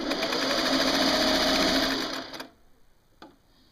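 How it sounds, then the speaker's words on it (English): Vintage gear-driven Singer 401A sewing machine stitching, a close, fast, even whirring run with a fine mechanical rattle that stops abruptly after about two and a half seconds, followed by a faint click. "I'm going to do a little stitching. I'll let you hear the sound of it."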